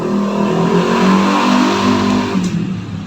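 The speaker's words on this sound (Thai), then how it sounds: "เสียงมอเตอร์ไซค์ มันใกล้ครับ" A motorcycle engine roars close by, loud and steady, then begins to fade as it moves away.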